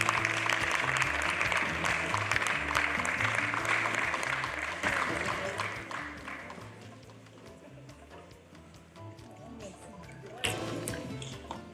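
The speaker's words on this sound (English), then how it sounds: "A round of applause for him," Audience applause at a formal public health ceremony attended by state officials, a broad steady wash of clapping over music and voices that thins out about halfway and then lingers faintly.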